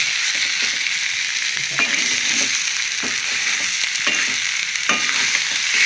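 Radish greens curry frying in a pan, an even, close sizzle with scattered stirring clicks and scrapes throughout, no voices.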